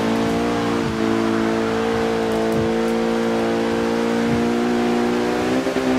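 Volkswagen rally GRC Bug race car in the Forza Horizon 2 video game, its engine revving steadily high and loud throughout with sustained tonal drone and brief shifts, no talking.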